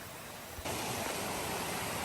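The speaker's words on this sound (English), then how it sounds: "we are coming down to the end of the waterfall, and it's slippery in here" A jungle waterfall that cuts in suddenly as a loud, steady rushing roar of falling water, close by and with no voices.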